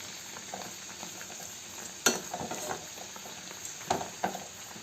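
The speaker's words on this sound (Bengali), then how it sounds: "একসাথে অনেকগুলো সিঙ্গারাও ভাজতে পারেন। আমি এখানে 3টে দিয়েছি" Three samosas deep-frying in hot oil make a constant close sizzle and fine crackle, with a few sharper pops and spatters and no talking.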